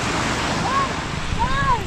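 Small, calm sea waves wash softly against the shore with a breezy outdoor hiss, close and continuous over a couple of seconds, joined by a few faint rising whistle-like tones.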